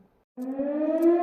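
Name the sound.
air raid siren in Odesa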